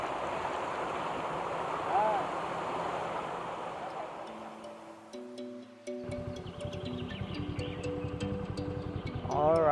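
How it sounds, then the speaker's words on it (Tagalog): A riverside stream rushes steadily in the late afternoon, a broad wash of flowing water that fades midway before tonal hums and faint voices take over. "nandito po tayo sa tabing ilog ngayong hapon na to"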